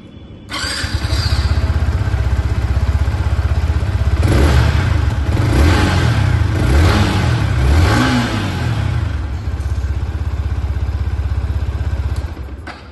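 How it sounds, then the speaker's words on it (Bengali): A Yamaha XSR155 retro motorcycle with an R15-derived engine idles, then its exhaust is revved several times in rising and falling surges before settling back to idle, close and loud. "তো চলো বন্ধুরা তোমাদের এবার আমি একবার এক্সস্টের সাউন্ডটা শুনিয়ে দিই"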